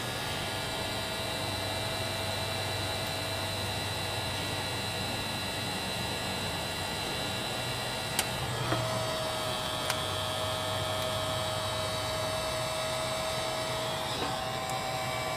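Heat gun blowing steadily while shrinking heat-shrink tubing over motorcycle wire connections on a Victory Cross Country, a constant loud fan whine and airy hiss throughout with a couple of faint clicks.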